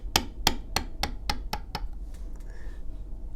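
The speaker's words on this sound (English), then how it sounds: "The movement of my tool is consistent with how I'm hitting with my maul." A maul striking a leather tooling tool: seven crisp, evenly spaced knocks in quick succession, close and fairly loud, followed by quiet rubbing.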